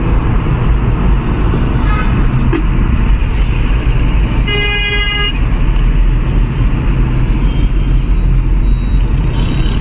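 Steady, loud road roar from inside a car moving fast along the Taj highway near Noida, with a brief horn toot partway through and no talk over it.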